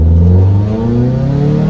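A modified 2.4L Honda Accord accelerates hard, its engine rising in a loud, continuous rev with climbing pitch close by and no talk over it.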